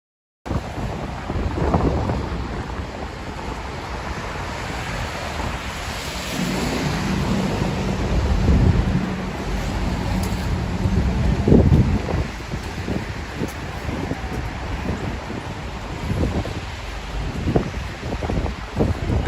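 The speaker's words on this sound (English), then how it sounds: "I'm sorry for the drops of the rain on camera." Rain falls on a city street near Ligovsky Prospect metro in St Petersburg, a steady wash of hiss and low rumble with scattered close taps and thuds from drops hitting the camera while walking.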